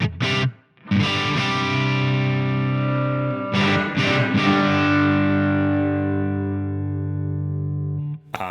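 An electric guitar run through the Nembrini BG-Extasy amp plugin with studio reverb rings out in distorted sustained chords, one struck near the start and another midway, each decaying slowly into a lingering reverb tail.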